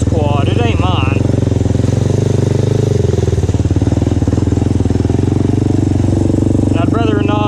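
A quad ATV four-wheeler engine runs at a steady, loud, close rumble, with speech over it.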